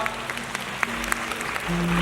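Fans applaud at a Jun.K special fan meeting in Thailand, scattered clapping heard against a hall's background hum and a sustained tone near the end.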